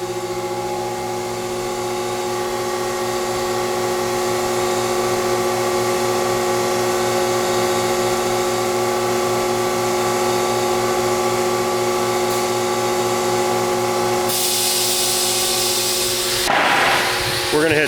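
An Onsrud 36210 inverted pin router with an RS24 autofeeder spins up and machines a workpiece, a steady loud whine and hum that holds throughout before a burst of cutting noise near the end.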